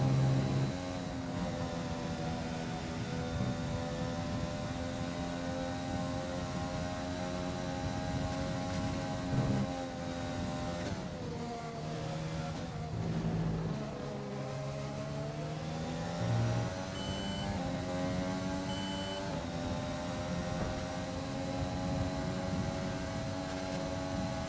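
An F1 race car engine in the video game F1 2020 whines at high revs, its pitch sliding down and climbing again through gear changes, sustained and moderately loud with no talk.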